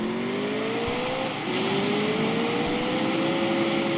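A COPO Camaro's engine in the CSR2 racing game revs hard through a steady climbing whine, with a quick gear-shift break, then pulls higher again, loud and close.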